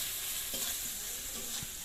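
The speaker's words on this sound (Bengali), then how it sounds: "খানিকটা নাড়াচাড়া করছি।" Turmeric and chili powder stirred in a hot frying pan, a soft steady sizzle with a few faint scraping strokes of the spoon, close and continuous with no voices.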